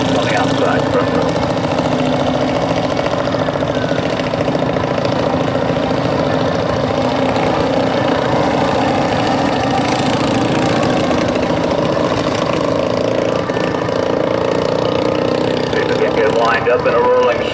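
Junior sprint race car engines idle together on the track before a heat race, a steady rough rumble at close range while an announcer talks over it throughout.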